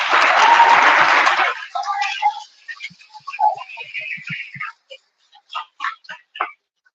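Awards-ceremony audience at a WSL awards event gives a loud burst of applause that fades within about two seconds, followed by scattered faint clicks and sounds in a quieter hall.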